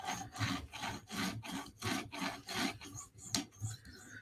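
A Lil Native knife in S90V steel is sharpened on a TSProf Kadet guided system, steady rhythmic rasping strokes of stone on blade, about eight close, quiet passes with no talk.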